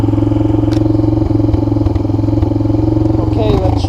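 A water-damaged Honda Fourtrax 300 ATV engine running at a steady idle, a loud, close, throbbing low putter with rattling clatter, a few sharp clicks and a brief rising squeal near the end.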